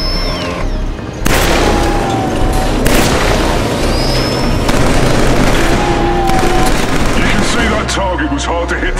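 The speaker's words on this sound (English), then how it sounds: "now switch back to your rifle. Try shooting those far targets in the range" Rifle fire at distant targets on a firing range in the video game Killzone 3, heard as loud, sharp shots repeated in bursts over continuous battle noise. A voice talks over part of it.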